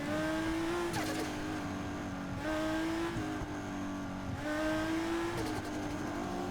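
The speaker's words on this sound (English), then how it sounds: "I like the blow-off sound though. That's so good." A modded Nissan GT-R in Need for Speed: sustained engine revving with rising pitch sweeps that repeat about three times, punctuated by brief turbo blow-off hisses between shifts, loud and close with no talking.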